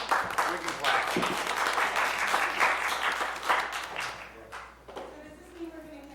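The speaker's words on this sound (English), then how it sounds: "We can clap." An audience applauds at a county board of supervisors meeting, a sustained burst of clapping that fades out, with voices speaking over and after it.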